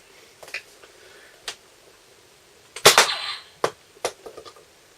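A Nerf blaster dressed as a Star Wars Rogue One prop fires foam darts at an indoor wall, giving several sharp clicks and pops spaced irregularly, with one louder burst in the middle, close and fairly loud.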